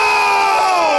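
A wrestling crowd at a live show roars loudly and continuously, a dense wall of cheering and shouting from a packed audience with no pauses.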